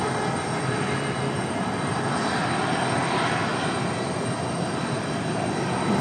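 A JetBlue airliner roars steadily at Raleigh Durham International Airport, a loud continuous broadband jet rumble that swells gently in the middle without any break, with no talking.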